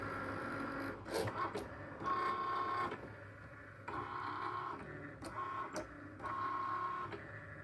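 A Cricut cutting machine slices transparency plastic, its carriage motor whirring and buzzing in alternating passes with short pauses and small clicks, quiet and close.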